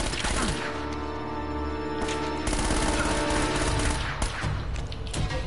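Gunfire in the Uncharted: Drake's Fortune video game, a dense burst of repeated shots mixed with game music and background sound, running steadily through the whole stretch.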